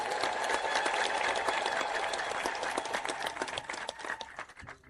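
Church congregation clapping and ululating in approval at a budget appeal, a dense sustained wash of applause that thins toward the end.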